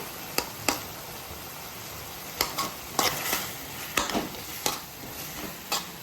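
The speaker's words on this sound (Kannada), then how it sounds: "ಟೊಮೊಟೊ ಸ್ವಲ್ಪ ಮೆತ್ತಗಾಗೋವರೆಗೂ ಹುರ್ಕೋಬೇಕು" Tomatoes frying in a pan for mushroom masala gravy, cooked until soft: a steady sizzle with sharp spoon-on-pan scrapes and stirring knocks recurring every second or so, no talk.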